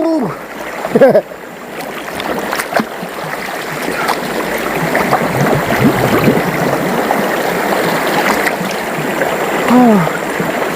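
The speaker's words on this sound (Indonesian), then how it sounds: "Udah lama kita gak mandi di sungai ini ya." People bathing in a river make continuous water splashing and churning, fairly loud and close, with flowing stream noise underneath and occasional voices calling out over the water.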